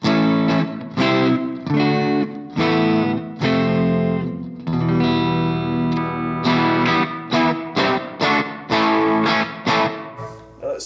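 Maybury electric guitar played through humbucker pickups with distortion, loud chugging chords and sustained ringing notes in rhythmic bursts, played alone with no talk.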